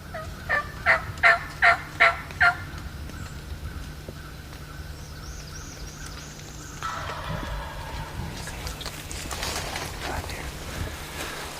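Wild turkey gobbling in the South Carolina woods during a hunt, a rapid series of about six loud gobbles in the first few seconds, followed by quieter forest ambience and a faint rustling rumble.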